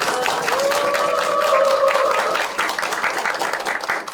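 An audience at a Korean presidential candidate's panel meeting applauds, a dense, loud wash of clapping that holds steady and then thins out as a voice speaks over it.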